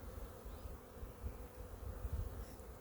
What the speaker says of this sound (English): Actually got a bee emerging right there.